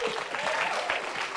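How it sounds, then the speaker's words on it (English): An audience claps and cheers steadily at a speaking event, a dense, even wash of applause that stays loud throughout. "Give a big round of applause to Mr."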